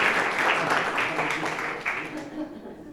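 An audience applauds the Innova team at a FOSIS social innovation event, a brief burst of clapping that fades, heard over speech.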